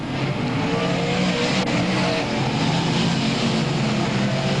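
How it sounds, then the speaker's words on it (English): Stock race cars roar continuously around the oval at Albany-Saratoga Speedway, a dense, loud wall of engine noise with no talk heard. "Pulls to the inside of the Cozy machine as they work into turn number 3."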